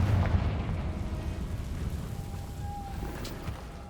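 A Confringo fire spell bursts in the Hogwarts Legacy video game, a rumbling explosive blast with a deep low-end boom that slowly decays into a crackling, fading rumble, alone without speech.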